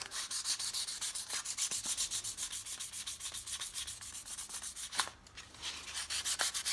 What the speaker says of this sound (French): Le ponçage va faire partir une partie de l'excès de peinture.